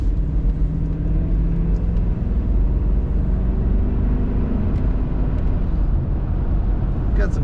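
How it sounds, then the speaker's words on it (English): A 1994 Cadillac Fleetwood sedan's V8 hums in a steady, low cabin drone as it gathers speed on the road, smooth and even throughout. "Got some good V8 power."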